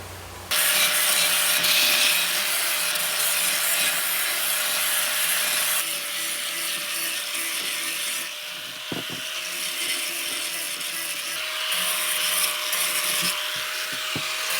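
Hand sanding produces a continuous, close rasping scrub that shifts in intensity a few times, with a few brief knocks partway through.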